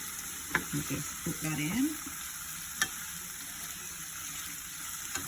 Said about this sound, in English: And let that saute now with the saltfish for a minute.